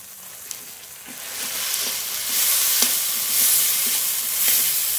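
Ground spices sizzle and fry in a hot pan for a Bengali bhola fish curry, a steady loud hiss with occasional stirring clicks, building slightly louder partway through, no voices.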